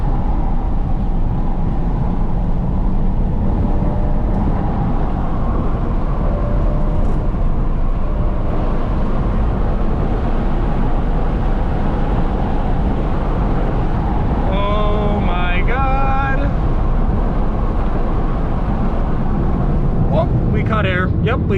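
Interior drone of a tuned BMW N54 335i under way, a loud steady engine and road roar with wind buffeting, and a brief whooshing blow-off valve release near the end while people talk over it.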